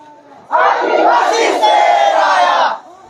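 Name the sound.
large crowd of marching youth at rally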